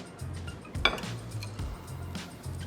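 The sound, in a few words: mixing chicken batter in a bowl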